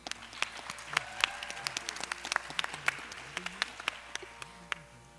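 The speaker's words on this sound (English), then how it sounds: "Please give a round of applause for Megha." Applause from an audience at an Arangetram dance debut, a steady patter of many hands with sharp individual claps standing out, continuing evenly for several seconds with no talk.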